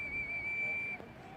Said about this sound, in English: Referee's just whistled in.